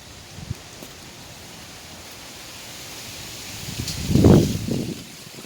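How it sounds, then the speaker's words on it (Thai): Cold wind blowing through garden plants such as flowering snake plants, a steady soft rustling hiss that swells into a louder gust near the end, with no talking. "หนาวมากเลยลมเย็นเย็น"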